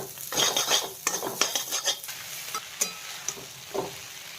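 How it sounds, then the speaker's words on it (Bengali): Vegetables frying in butter for Maggi noodles in a home kitchen, with a steady soft sizzle under repeated metallic scrapes and clinks of a spatula stirring against the pan, no talking. "এখানে ভেজিটেবলস ফ্রাই করছি। তেল দিইনি, পুরোটাই বাটার দিয়ে করছি।"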